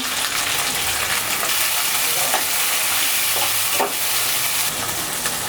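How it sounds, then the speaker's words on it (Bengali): Chopped tomato frying in a pan with ginger-garlic paste gives a steady, close sizzle throughout, with occasional scrapes and clinks of stirring, for an egg and red lentil dish. "আদা রসুন বাটাটা একটু ভেজে নেব যাতে করে গন্ধ না আসে এরপর দিয়ে দেব টমেটো কুচি"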